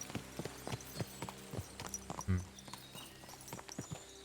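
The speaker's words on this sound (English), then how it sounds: "Stay on our horse for now." Horse hooves clip-clop at a walking pace in Kingdom Come: Deliverance II, a steady run of distinct, fairly close hoofbeats with a few scuffs, quiet and without talk.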